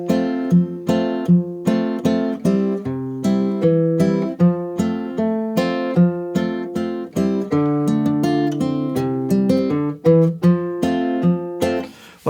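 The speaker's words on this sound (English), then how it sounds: "I'm just playing it here on my new Lava Me air guitar" A Lava Me acoustic guitar plays a slow, lilting cowboy tune from Red Dead Redemption 2, with clear plucked notes and strummed chords ringing steadily for several bars, close and alone with no talking.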